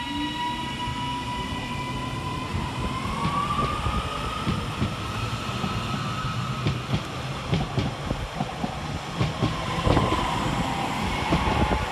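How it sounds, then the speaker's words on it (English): British Rail Class 331 electric unit 331-102 on a Northern service from Leeds to Doncaster at Sandal and Agbrigg station, its traction motors whining and rising in pitch over rumbling, clacking wheels as it moves close by. "let's get started here at Sandal and Agbrigg with 331-102, working the 1138 Northern service from Leeds to Doncaster"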